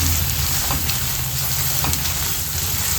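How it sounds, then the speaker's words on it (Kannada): Chili powder and spices fry in a hot pan with a loud, steady, close sizzle, broken by faint stirring scrapes and with no voice heard. "ಹಸಿ ವಾಸನೆ ಹೋಗೋವರೆಗೆ ಫ್ರೈ ಮಾಡಿಕೊಂಡ್ರೆ ಸಾಕು"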